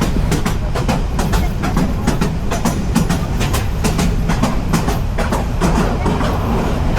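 A passenger train from Dhaka to Kishorgonj rolls along the rails, loud and close with a steady rumble and regular clickety-clack beats throughout.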